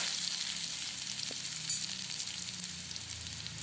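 Garlic, small bay leaves and dried chilli fry in mustard oil for Assamese titaphul khar, a soft, steady sizzle heard close by with one brief clink of a utensil midway, no voices.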